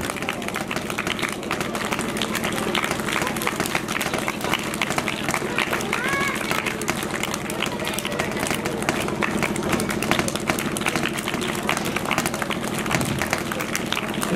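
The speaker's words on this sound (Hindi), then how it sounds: "तालियां रुकनी नहीं चाहिए।" Village crowd applauding steadily for a long stretch, dense and continuous clapping with a voice talking over it.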